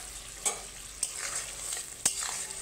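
Stirring fried onion paste (beresta) into spices frying in oil for a potol chingri curry, with a steady soft sizzle and three sharp spoon scrapes against the pan.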